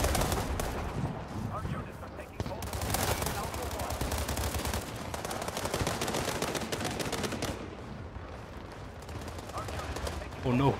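Rapid gunfire rattles in the World War 3 video game, with bursts of automatic shots and booming fire in dense, loud stretches separated by brief lulls, while a player talks over the battle.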